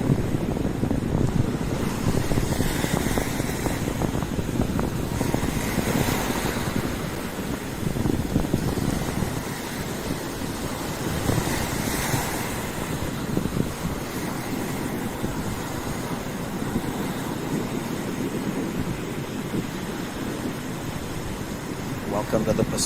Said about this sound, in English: Lots of waves.